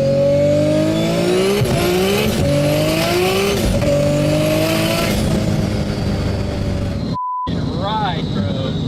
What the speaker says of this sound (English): tires are a bit cold, so I'm spinning the wheels.